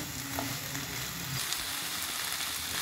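Finely chopped capsicum fries with cooked carrots in a hot pan, giving a steady, close sizzle with faint stirring scrapes and no voices.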